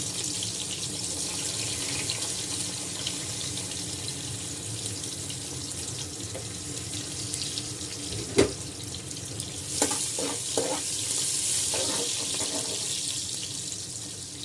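Garlic frying in hot oil in a pan, cooking for a Bengali-style rohu fish curry, with a steady broadband sizzle throughout and a few sharp utensil clinks near the end; no talking.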